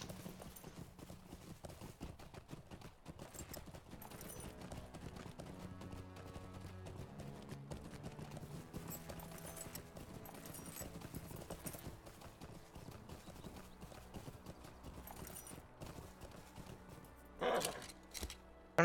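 Horse hooves clip-clop steadily in the video game The Lord of the Rings Online, a continuous rhythmic trot under game music and ambient sound, with a brief louder burst near the end.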